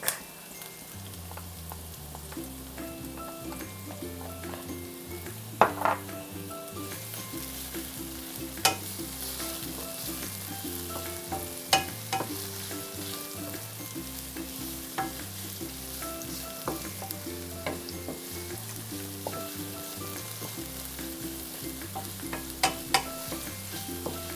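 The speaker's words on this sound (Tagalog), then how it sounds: "pwede na nating ilagay ang ating garlic" Garlic frying in a pan for Filipino-style spaghetti gives a steady, close sizzle with occasional stirring clicks, running under background music.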